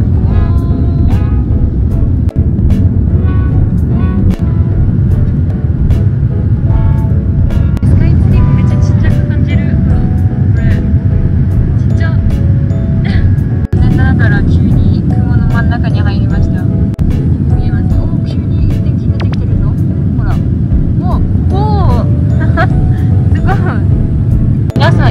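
Airplane engines roar steadily inside the passenger cabin just after takeoff on a flight departing Japan, a loud, constant low drone filling the whole stretch while people talk over it.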